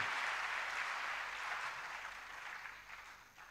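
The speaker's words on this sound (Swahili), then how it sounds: "Tuchape makofi mara tena juu ya neno la Mungu" Applause from a church congregation after the word of God is read, bright massed clapping that starts full and gradually fades over a few seconds.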